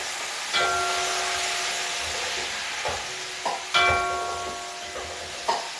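Garlic and tomato sizzle steadily in a pan for a crab gombo sauce, a close, continuous frying hiss broken by a few brief clinks and stirs, with no voices.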